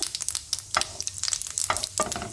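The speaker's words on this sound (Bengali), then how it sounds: "ফোড়নে দিয়ে দেবো একটা শুকনো লঙ্কা, আর দিয়ে দেব মৌরি, আর দিয়ে দেব সর্ষে।" Dried red chili, fennel and mustard seeds sputter and crackle in hot oil, giving quick, faint pops and sizzling bursts with no talking.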